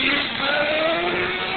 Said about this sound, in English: Wow, that truck sounds mean.